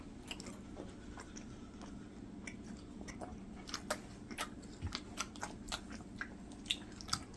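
A person chews gwamegi, dried Pacific saury, close up. Soft, wet, irregular chewing and squishy bites come with occasional sharper clicks, quiet and without talking.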